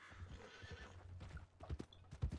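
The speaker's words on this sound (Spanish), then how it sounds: "Porque está entrenando el caballo ella." A horse in the Western roleplay game RedM, set in 1920, gives a whinny amid clip-clopping hooves while being trained, fairly faint with scattered hoof thuds.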